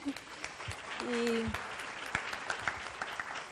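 Applause for a panel of speakers at a distance-education conference, a dense patter of clapping that runs throughout with a brief voice heard over it.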